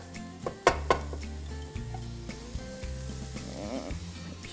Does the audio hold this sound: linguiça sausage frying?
yes